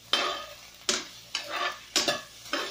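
Onions frying in a pan, with repeated stirring scrapes at a steady rhythm over a soft sizzle, close and fairly quiet.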